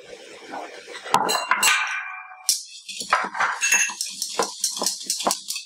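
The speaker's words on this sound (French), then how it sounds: "je vais blanchir les jaunes d'œufs avec le sucre mascobado" A whisk clinks and scrapes against a bowl while egg yolks are beaten with muscovado sugar, quick rhythmic metallic taps close by with no talk.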